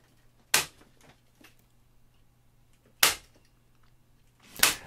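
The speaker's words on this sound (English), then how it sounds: "pull it down and drive a staple to hold it in place, and then continue stapling around the corner" A staple gun drives staples through upholstery fabric on a tufted seat, giving three sharp, isolated snaps spaced a couple of seconds apart in a quiet room.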